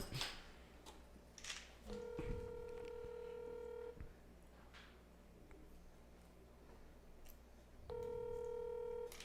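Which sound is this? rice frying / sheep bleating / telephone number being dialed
telephone number being dialed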